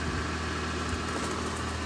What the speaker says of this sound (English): I turned the engine on